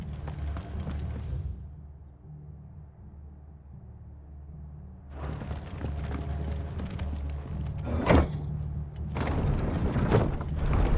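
Horses' hooves clopping in the video game Final Fantasy XVI, a steady low rhythmic patter under a quiet ambient bed, with louder bursts of activity near the end.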